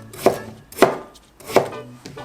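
Three crisp knife chops slice through a potato onto a cutting board in an even, unhurried rhythm, close and distinct.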